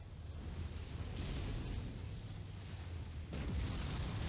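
In Mechwarrior 5, a missile explosion booms as a sustained, muffled roar with a second burst near the end, dense and continuous rather than a single sharp crack.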